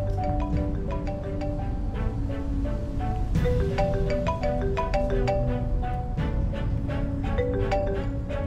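A mobile phone rings with a melodic tone of repeating bright notes, steady and fairly close, with no talking.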